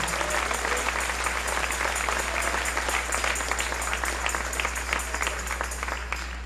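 A church congregation applauds at a Sunday morning service, a dense, sustained wash of many hands clapping at once, steady and full throughout with a faint low hum beneath and no clear speech.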